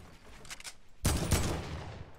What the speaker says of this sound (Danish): Han har en sniper dog.